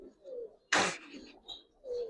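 Giribaz pigeon cooing, soft low coos repeated near and close, with one brief noisy burst like a flap or shuffle in between.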